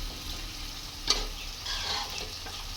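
Mutton frying in a pot with onions, a steady close sizzle with soft crackling and one sharp tick from a utensil partway through, and no voices.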